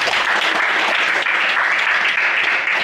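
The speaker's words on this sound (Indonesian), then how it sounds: "Tepuk tangan untuk beliau." An audience at a campus talk about student success breaks into steady, dense applause, loud and continuous throughout with no voices over it.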